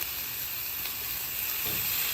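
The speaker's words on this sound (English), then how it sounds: "I'm just gonna add this garlic, maybe just a touch more oil." Garlic sizzles in hot oil in a pan on a smoker while pork carnitas and tomatillos cook, a steady, loud, continuous frying hiss with no voices.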